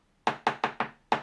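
Makeup brush loaded with loose powder being shaken off, giving five quick, dull knocking taps in an uneven rhythm, close and fairly quiet, with no talking.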